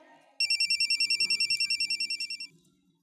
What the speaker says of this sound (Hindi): ये तो असद का फोन है